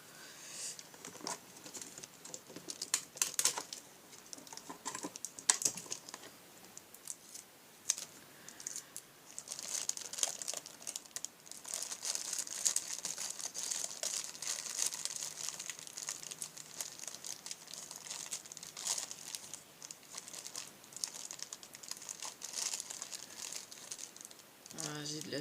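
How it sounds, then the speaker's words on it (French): Adhesive tape being torn and handled during scrapbooking: soft crinkling, tearing and fiddly tapping noises, close and quiet, scattered irregularly over about twenty-five seconds. "Je vais mettre un bout de scotch pour le faire tenir en attendant."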